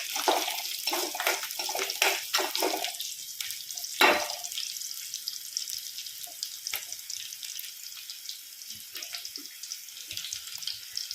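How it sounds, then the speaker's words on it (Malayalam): Mustard seeds, ginger, garlic, slit green chili and curry leaves sizzling in hot oil for a fish curry: steady close crackle and hiss with a few louder spits early on, gradually settling to a softer fry. "കടുക് ഇട്ടതിന് ശേഷം ഞാൻ ആവശ്യത്തിന് ഇഞ്ചി, വെളുത്തുള്ളി, പച്ചമുളക് കീറിയതും കറിവേപ്പിലയും കൂടെ ഇട്ട് മൂപ്പിക്കുക"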